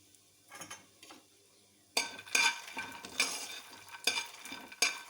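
Fox nuts (makhana) roasting in ghee are stirred around a pan, a dry rattling scrape with light sizzle and utensil clinks in short, irregular bursts, quieter at first and then louder.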